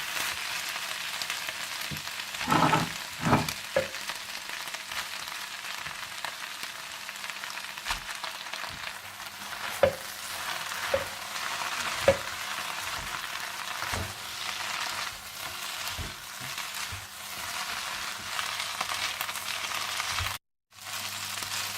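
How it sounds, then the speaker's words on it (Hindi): Boiled egg noodles are stirred into chicken in a pan for chicken chow mein: a steady low sizzle of frying runs throughout, with scattered soft scraping and tossing clicks, before a sudden brief drop to silence near the end. "आप इसमें बॉइल्ड एग नूडल्स डाल दें और अच्छी तरह से मिला लें"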